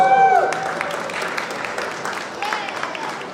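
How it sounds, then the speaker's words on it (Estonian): Audience at a motorcycle safety training demonstration at a moto fair breaks into applause, a burst of clapping that starts loud and gradually thins out, with voices and a brief tonal sound near the start. "Aplaus!"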